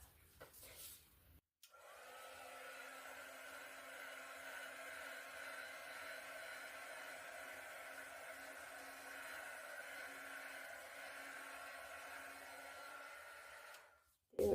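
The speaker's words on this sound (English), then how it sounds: "I think I'm just quickly going to hit this with a heat gun" A heat gun blows steadily over an acrylic paint pour with gold, a continuous loud airy whoosh lasting about twelve seconds before cutting off, with quieter handling noise at either end.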